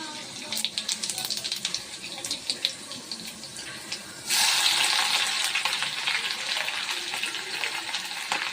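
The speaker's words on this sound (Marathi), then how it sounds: "लसूण पेस्ट, कढीपत्ता, कांदा घालून घेतला।" Garlic paste, curry leaves and onion go into hot oil. Scattered crackling gives way about halfway through to a sudden, loud, sustained sizzle that stays steady to the end.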